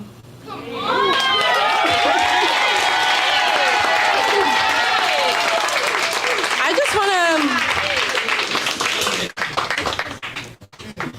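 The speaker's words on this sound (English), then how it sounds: "can we give a round of applause to my coworkers right here that came and supported me?" Audience applause and cheering at a live poetry event fill the room, loud and sustained for about eight seconds before tapering off, with a voice speaking briefly at the start.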